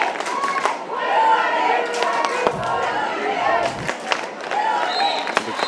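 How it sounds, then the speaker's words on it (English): Spectators at the 2014 world ultimate frisbee championship women's final between Seattle and San Francisco produce a continuous roar of cheering and scattered clapping, with occasional sharp thuds and shouts in the mix. "The crowd cheering for Riot."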